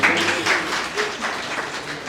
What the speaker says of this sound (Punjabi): ਇੱਕ ਵਾਰੀ ਤਾਲੀ ਤਾਂ ਵਜਾ ਦਿਓ ਯਾਰ